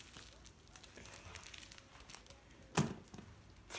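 Sticky tape that has lost most of its stickiness being handled, giving soft crinkling and tearing rustles with one sharper crackle near the end, close to the microphone.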